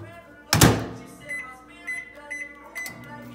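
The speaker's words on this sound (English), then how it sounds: "We're gonna pop her in the microwave, and then she should be ready soon." A microwave oven heating chicken breast opens with a sharp thunk of the door or button, then settles into a low steady hum with faint beeps and tonal blips above it.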